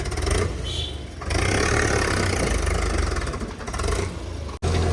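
A tractor engine roars close by, rising and falling in pitch as it revs, with a sharp knock near the end.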